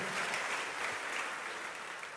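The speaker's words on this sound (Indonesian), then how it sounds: "Berikan tepuk tangan yang meriah." A church congregation at an Indonesian service gives a short burst of applause, fairly faint and evenly spread, with no voices standing out.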